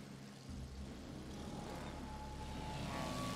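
Aircraft squadrons in World of Warships Legends fly overhead as a low, steady propeller drone that swells gradually, faint and continuous, with no voices.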